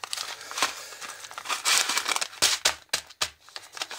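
A plastic packet of dried vegetable savoury rice being handled and opened, loud crinkling and rustling with a few sharp snips and tears, close and irregular.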